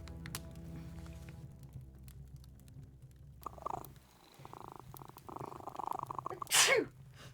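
Low, steady purring from a cat runs close for several seconds, then gives way to rustling, shuffling noises and a sharp sneeze near the end.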